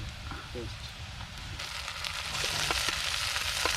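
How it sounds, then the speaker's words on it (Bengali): Ginger-garlic paste hits a pan of deep-fried reddish onions, setting off a hiss that swells into a louder, continuous sizzle heard close up. "তো গাইস আমাদের পেঁয়াজ অলরেডি লাল লাল করে ভাজা হয়ে গেছে এখন আমরা এগুলো দেবো আদা আর রসুন পেস্ট"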